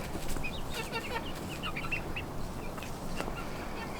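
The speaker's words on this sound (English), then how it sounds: "as I say that, there's chickens in there" Chickens in a garden coop with pine needles: soft, scattered clucks and chirps over a steady, faint outdoor background noise, with no talking.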